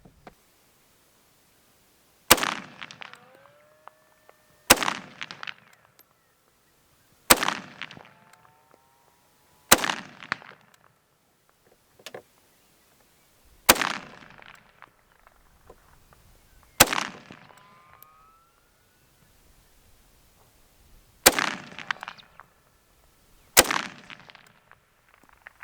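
An SKS rifle fires a string of single rounds outdoors, eight sharp loud cracks spaced a few seconds apart, each trailing off in a brief echo, with no talking.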